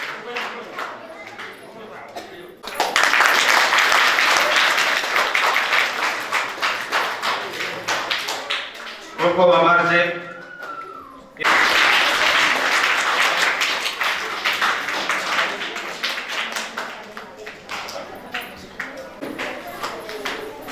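Audience clapping at a school hall inauguration ceremony in Rikadiya, heard as two long, loud bursts of applause with a short gap between them and a speaker's voice in the pause and around the edges.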